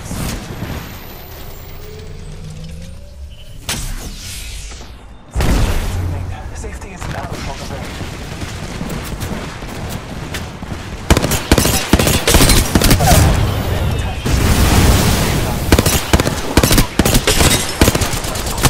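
Gunfire in Apex Legends: scattered shots at first, then a loud, dense stretch of rapid automatic bursts in the second half, with game sounds mixed in.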